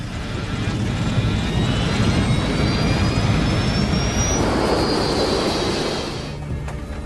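Airliner jet engines at maximum thrust during a go-around in a storm, heard as a loud, steady, close roar with a rising whine that fades slightly at the end.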